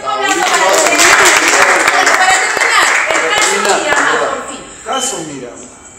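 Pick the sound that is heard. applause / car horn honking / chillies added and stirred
applause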